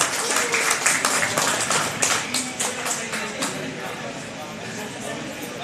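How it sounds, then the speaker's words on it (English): Applause from an audience at the opening of a second branch of a customer business, a dense wash of claps that stays steady, with voices murmuring beneath it before slowly thinning out. "let's give him a louder round of applause"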